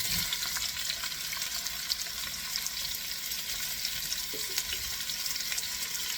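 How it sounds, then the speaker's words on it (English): Onions frying in a hot pan for braised beef short ribs give a steady, dense sizzle and crackle that continues unbroken for several seconds, close and fairly loud, with no voices. "Now we want to brown these onions, but we do not want to burn them"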